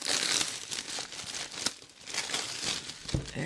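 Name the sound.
crinkling plastic wrap being peeled off diamond art kit box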